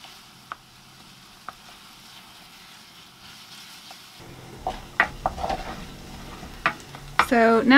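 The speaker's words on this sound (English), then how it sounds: "We're going to start off by sweating our onions and our garlic," Quiet at first with a couple of soft taps, then a sizzle rises as onions and garlic fry in butter, broken by stirring clinks and scrapes of a utensil.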